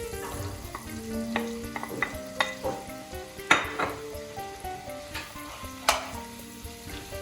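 Julienned mushrooms sizzle softly in butter and oil in a hot pot over high heat while a utensil clinks and scrapes now and then, stirring them at a moderate, uneven pace.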